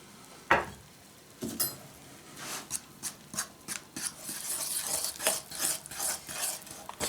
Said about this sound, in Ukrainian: Потрохи починаємо додавати борошно. і перемішуємо.